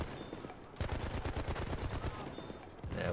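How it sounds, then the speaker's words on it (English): A Madsen MG trench machine gun rattles off a long, rapid, sustained burst in Battlefield 1, loud and close, with a brief pause before another burst starts at the end. "we've got the Madsen MG trench. This one's probably the best machine gun choice. Bit of a demonstration of its effectiveness here."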